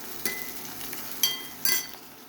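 Chopped onions frying in a pan for paneer bhurji, a soft steady sizzle broken by three sharp metallic clinks of a spoon stirring against the pan.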